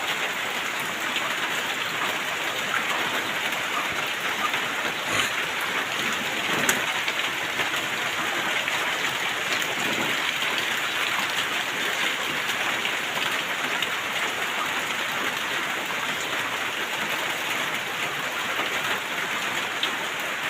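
Heavy continuous rain pours down during a storm on a flooding yard, a dense steady hiss lasting throughout with occasional faint drips and distant birds.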